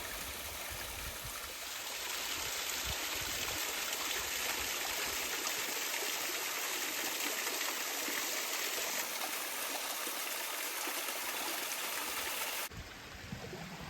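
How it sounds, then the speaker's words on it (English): A fairly high waterfall in Meadow Clough above Crowden Little Brook on Black Hill, a steady broadband rush of falling water heard alone and constant throughout. "Meadow Clough also has a pretty cool waterfall."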